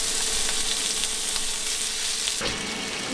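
Meat hits a hot griddle and sizzles steadily, with a crackling hiss that jumps in loudness near the end, close up, heard on its own.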